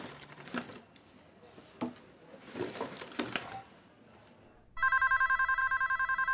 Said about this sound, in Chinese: 接下电话。